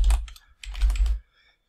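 Quick clattering keystrokes on a computer keyboard while PowerShell commands are typed, two short bursts of typing separated by a pause, close and fairly loud with no talk.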